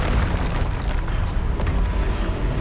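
A loud, booming blast from the Bombarda explosion spell in the Hogwarts Legacy video game, a dense, rumbling burst that fills the whole moment with no voices over it.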